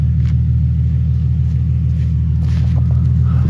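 Steady low engine rumble heard from inside a car driving on an Oklahoma road after rain, a constant, loud drone with no talk.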